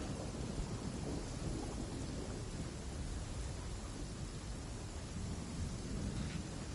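Thunder rumbles faintly and steadily under a continuous wash of rain in the video game Genshin Impact, a distant, muffled storm with no distinct sharp crack.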